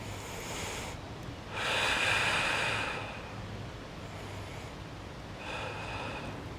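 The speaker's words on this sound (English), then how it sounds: "Take 3 deep breaths." Slow deep breaths taken during a mobility stretching drill, two long airy inhale-exhale swells at close range, the first around two seconds loud and full, the second softer near the end, with no talking.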